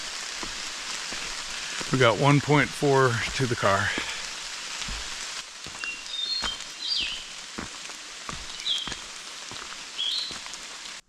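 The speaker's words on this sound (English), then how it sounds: "it is raining again" Rain falling on the Appalachian Trail in Grayson Highlands State Park, Virginia: a soft, steady patter of drops on foliage and ground, with a person speaking briefly near the start before the rain carries on alone.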